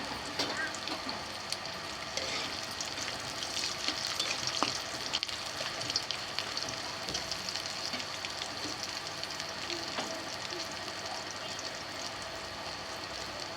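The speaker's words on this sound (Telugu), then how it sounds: "పల్లీలు వేగాయి" Peanuts frying with dry red chillies and garlic in oil for temple-style tamarind pulihora, a steady dense crackle with scattered scraping clinks of a spoon, close and fairly loud, with no talk.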